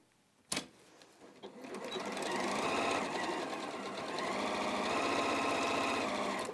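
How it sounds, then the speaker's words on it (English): An Elna 720 Pro sewing machine stitches a bag, a steady loud whirring run after a sharp click, continuing without pause and close to the microphone. "And then we'll sew again in the same manner."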